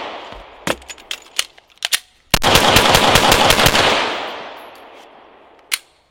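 Rapid string of sharp handgun shots fired during a shot timer drill with a reload, scattered single shots then a dense burst of about a second and a half with echoing tail, loud and close, with a final lone shot.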